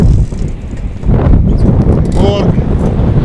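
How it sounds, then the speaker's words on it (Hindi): Strong, cold gusts blowing after a dust storm buffet the microphone with loud, rushing low roar, dipping briefly and then surging again, with a faint whistling note partway through. "बहुत ठंडी ठंडी हवाएं चल रही हैं।"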